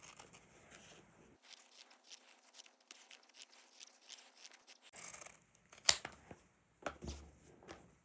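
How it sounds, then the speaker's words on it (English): Scissors snip through excess denim above a jeans hem, a few quiet crisp cuts with faint rustling of fabric, close and alone. "trim off the excess on here. You want to leave about 1/4 of an inch above the hem."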